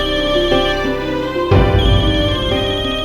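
A phone rings with a steady electronic ringtone, a call from a stepmother, the repeating tone louder and fuller after a brief change partway through, with no voices.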